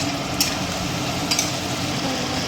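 Biryani meat frying in a pan just after homemade ginger paste is added, giving a loud, steady sizzle with a couple of brief scraping stir sounds; no talking.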